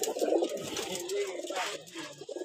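Male pigeons in a racing loft give low, throaty coos close by, a steady murmur of overlapping calls with brief louder bursts and a light background hiss.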